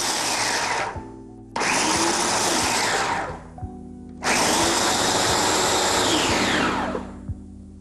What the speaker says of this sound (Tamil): நான் இப்போவே பல்ஸ் மோட்ல போகிறேன்